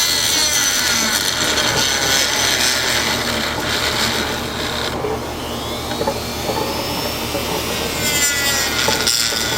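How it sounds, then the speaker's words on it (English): A Dremel rotary tool cuts off the plastic union of a pool salt cell, making a loud, continuous grinding and rasping whine that wavers slightly in pitch without a break. "We'll cut it off with our Dremel."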